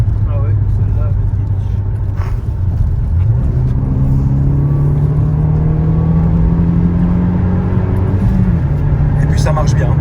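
A Renault Megane RS engine on the road climbs into a higher, sustained revving drone that holds steadily, loud and close, with a voice faintly under it.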